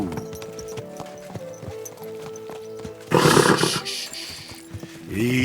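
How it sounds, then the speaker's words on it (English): Horse hooves clip-clop in a steady trot in the medieval game Kingdom Come: Deliverance 2, close and clear over a musical score, and a burst of louder movement and rustling follows. "Easy, good horse."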